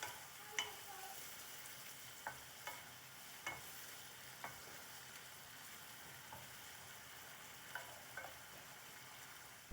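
Chicken livers and gizzards sizzle steadily in a pan, a close, quiet frying hiss broken by a few sharp clicks of stirring, with no one speaking.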